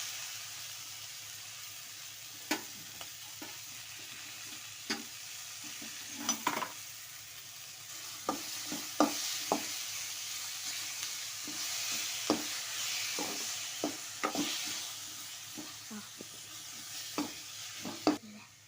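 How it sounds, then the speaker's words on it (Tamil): Tomatoes and onions fry in a kadai for chana masala, a steady soft sizzle broken by repeated sharp scrapes and knocks of a spoon stirring the pan, close up with no talking. "தக்காளி வெங்காயம் நல்லா வதங்கிடுச்சு"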